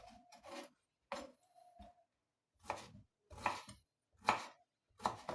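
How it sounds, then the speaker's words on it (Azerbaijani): A knife chops a lemon into small pieces for sherbet in a quiet kitchen, giving a handful of crisp, irregular cutting knocks separated by short pauses. "Gördünüz, beləcə bu şəkildə doğrayırıq limonumuzu."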